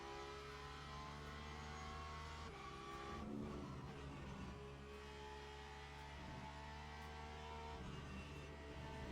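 A race car engine drones in Le Mans Ultimate, driven in VR around Spa, as a faint, sustained engine tone whose pitch shifts slowly, with a brief rough disturbance partway through and no one speaking.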